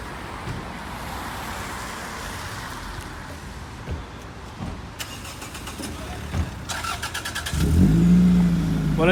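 Cars including a Toyota MR2 and a Renault Clio rev and pull away at a car meet, with engine noise and road rumble building and ending in a loud, close revving surge.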